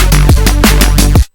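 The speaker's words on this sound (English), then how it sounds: "It's been a while since I made like a unison saw lead." A synthesizer unison saw lead is played an octave lower in a short melodic phrase of several loud, buzzy notes with pitch drops between them, ending abruptly.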